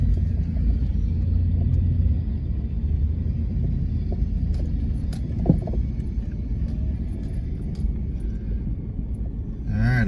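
An old Dodge Durango truck drives through snow, its engine a continuous, loud low rumble that stays steady throughout, with faint scattered rattles on top.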